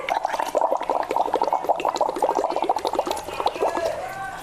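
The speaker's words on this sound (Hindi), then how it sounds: "पाइप लेकर आप पानी के उसके ग्लास में डाल के नासिका से आपको सांस भरना है और पूरी सांस को धीरे धीरे करके पानी में छोड़ना है" Steady bubbling and gurgling as breath is slowly exhaled through a pipe into a glass of water, a close, continuous burble lasting throughout without talk.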